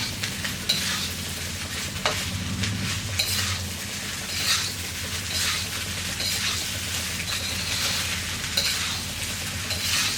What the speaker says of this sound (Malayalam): ഇത്രയും ചേർത്ത് നന്നായിട്ടൊന്ന് ഇളക്കി മിക്സ് ചെയ്തെടുക്കുക.